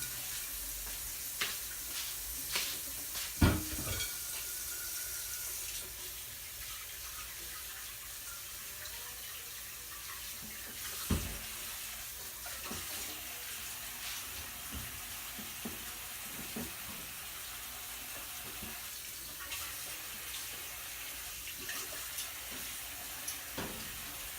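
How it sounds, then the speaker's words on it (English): Water runs from a tap for hand washing, a faint steady hiss broken by occasional splashes and knocks. "all I'm doing now is just washing my hands"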